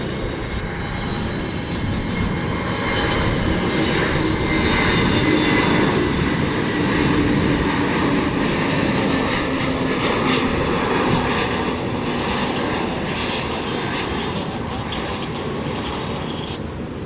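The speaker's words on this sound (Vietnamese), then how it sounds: "Airbus A321neo của Cathay Pacific đang bước vào hạ cánh" A Cathay Pacific Airbus A321neo lands on runway 25R at Tan Son Nhat airport. A loud, steady jet engine roar swells to a peak midway and then eases slightly as the aircraft passes.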